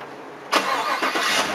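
A 2018 Chevrolet Tahoe LT fires up by remote start, a sudden loud crank catching into a rough, surging idle with a couple of brief dips, heard close with no talk.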